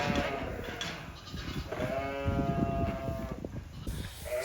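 Ewes in lambing pens bleat loudly nearby, with several long wavering calls overlapping across the stretch, backed by rustling and general barn noise.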